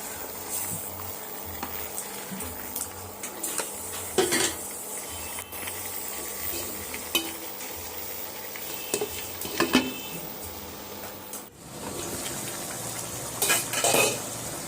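Meat cooked with coconut being stirred in a pot: repeated metallic scrapes and clinks of a spoon against the pot over a continuous frying sizzle, close and fairly loud, with a short pause near the end.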